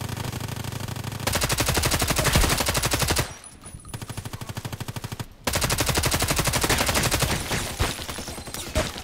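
HK 243 light machine gun in the shooter game Contract Wars fires long rapid bursts, loud and close, with a brief pause between two sustained strings of automatic fire and no voices.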